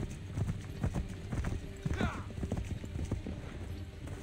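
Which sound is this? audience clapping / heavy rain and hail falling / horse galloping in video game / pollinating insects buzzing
horse galloping in video game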